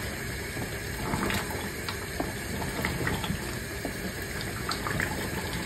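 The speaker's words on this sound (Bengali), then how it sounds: "দেখছো আমি অল্প পানি দিছি কিন্তু পানি বাইরেছে অনেক।" Water is poured into a cooking pot, giving a steady close splashing and gushing with small scattered drips and clinks throughout, and no voices.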